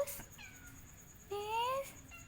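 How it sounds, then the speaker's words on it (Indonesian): An Angora cat meows several times at close range: a short call near the start, then a longer rising-and-falling meow midway, with quiet background between the calls. "Fa, aku nemu kucing, Fa."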